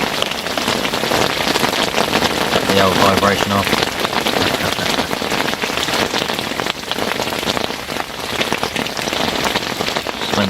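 Heavy rain patters steadily on fishing bite alarms at a syndicate carp lake, a dense, continuous hiss of drops striking plastic, with a brief mumbled voice in the middle.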